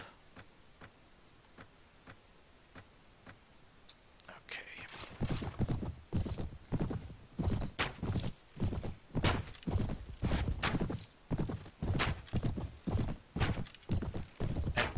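Horses gallop in the Mount & Blade game, starting as faint rhythmic hoofbeats, then turning into loud, close pounding clip-clop with a whinny, continuing steadily to the end.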